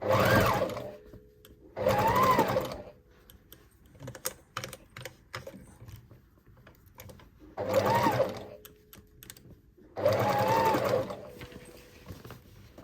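A sewing machine stitches the collar of a denim jacket in four loud, close bursts of rapid whirring, with light clicks and fabric handling in the pauses between.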